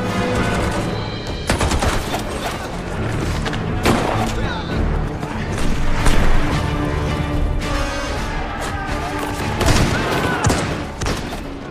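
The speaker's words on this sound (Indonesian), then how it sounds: "Dmitri harus gugur akibat terkena tembakan dari senapan serbu pasukan Nazi." Assault rifle gunfire in a war battle against Nazi troops, dense bursts of shots and booms packed over a continuous loud battle din, with a voice present in the mix throughout.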